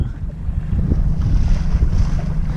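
A sailing dinghy heads downwind through swell, with loud wind buffeting the microphone and waves rushing and slapping against the hull in a continuous roar.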